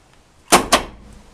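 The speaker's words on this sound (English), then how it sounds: "So the door just kicked open," A chopped Chevelle's door is popped open by an electric door popper, giving two sharp, close mechanical thunks about a fifth of a second apart, with no talking.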